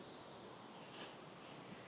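Small waves wash onto a New Zealand beach on the coast between Gisborne and Waihau Bay, heard as a faint, steady hiss of surf under wind, with no voices.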